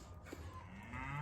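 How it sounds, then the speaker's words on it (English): Cattle lowing on a farm, a low drawn-out moo rising near the end over steady outdoor background noise, fairly faint and distant. "there's the cows down there are hollering at us"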